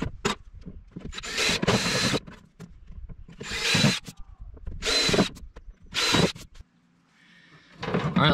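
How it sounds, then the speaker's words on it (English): A power drill bores mounting holes for a battery cut-off switch on a pop-up camper in four separate bursts, each a loud, gritty whine lasting about a second with short quiet pauses between, followed by a faint electronic tone. "I'll mark four holes, drill it, and mount it."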